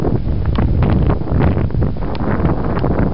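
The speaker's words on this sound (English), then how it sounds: "We have a major blizzard going on." Blizzard wind roaring outdoors in North Dakota in winter, a loud, steady, broadband rush buffeting the microphone with gusty swells throughout, no voices.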